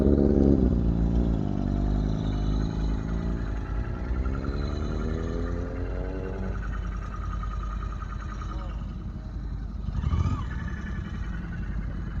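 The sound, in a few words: motorcycles being parked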